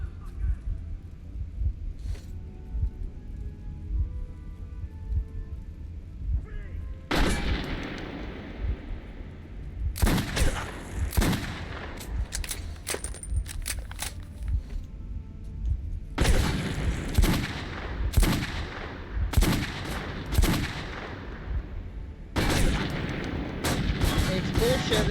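Enemies shoot in the Metro 2033 game in loud, chaotic bursts of gunfire, with clusters of sharp reports and heavy booms separated by brief quieter gaps.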